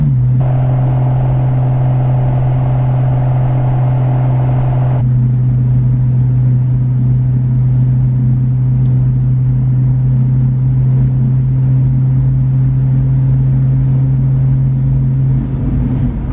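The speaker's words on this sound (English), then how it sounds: "the exhaust is so deep that it can be hard to tell" A deep, steady exhaust drone hums continuously from inside a Toyota Supra with a dual cat-back exhaust, cruising at about 3,000 RPM, a low constant tone that barely changes, with no talking.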